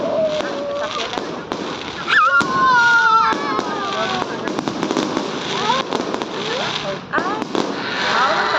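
Fireworks bursting at the Timpupo Fruit Festival in Kidapawan City, a steady run of crackling pops and bangs up close, with whistling streaks rising through the din and people talking and calling out over it.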